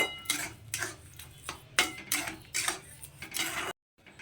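Beetroot halwa with sugar is stirred and fried in a pan, giving repeated scraping and clinking strokes of a spoon against metal in an uneven rhythm, close and fairly loud, with no talking.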